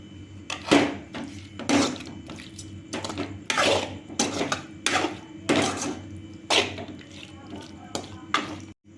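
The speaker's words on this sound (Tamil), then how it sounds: "இப்போ இது ஒரு கிண்டி விடுறோம்." A spatula repeatedly scrapes and clatters against a cooking pan while chicken fry with coriander leaves is stirred, a series of sharp metallic strokes at an irregular rhythm, close and clear, with little or no speech.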